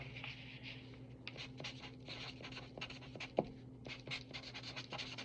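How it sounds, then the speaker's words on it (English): A pen writing a name by hand, its scratchy strokes coming in short close bursts over a steady low hum, with one sharper tap partway through. "And so I'm going to write my name."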